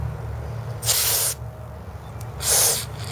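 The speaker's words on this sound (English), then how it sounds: "I'm going to spray everything lightly." Two short bursts of carburetor and choke cleaner are sprayed onto a Tecumseh small engine, each a loud, bright aerosol hiss of about half a second, separated by a pause with a low background hum.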